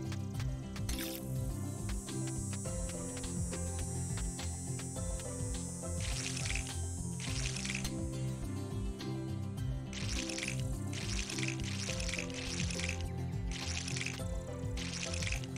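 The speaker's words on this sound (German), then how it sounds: "Erstmal gießen. Nicht, dass unsere Radieschen noch verwelken." Radish crops being watered in the farming game Monster Harvest, with trickling, dripping water effects layered over continuous game music, no speech.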